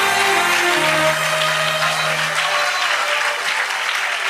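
A church congregation claps together in praise of God, steady dense applause filling the hall, with a sustained low musical tone underneath, fading slightly toward the end.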